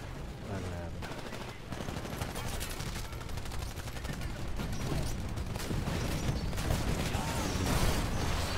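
Sustained gunfire and mechanical clatter from the shooter game Titanfall during a fight against a player in a Titan, steady dense shooting throughout with a voice talking faintly beneath.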